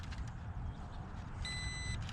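Ameta S20 Pro GPS foldable drone giving a steady electronic beep at compass calibration, heard as a clean high tone over constant low rumbling background noise near the end.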